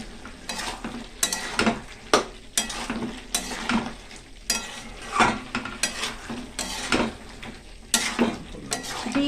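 Spices with ground coriander being stir-fried in a pan, a utensil scraping and clinking repeatedly in an uneven rhythm over a low sizzle, close and fairly loud with no talk.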